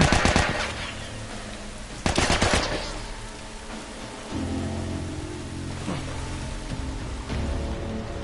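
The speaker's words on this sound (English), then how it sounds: "that's a powerful machine gun" Machine gun fire in a PS4 video game rattles in fast bursts, a loud one at the start and another around two seconds in, then fainter scattered shots over a rumbling background, with no speech.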